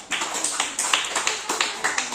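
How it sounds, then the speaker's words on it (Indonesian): A classroom group claps in short rhythmic bursts, about eight quick repeated rounds of hand claps, fairly close and clear with no talk over them. "Tepuk tangan dulu"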